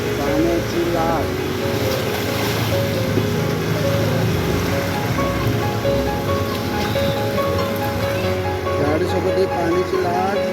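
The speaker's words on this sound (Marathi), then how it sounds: "गाडीसोबत ही पाण्याची लाट." Floodwater surging in a wave along a flooded street in Nalasopara during heavy monsoon rain, a steady loud rushing wash with vehicle rumble mixed in and someone talking over it.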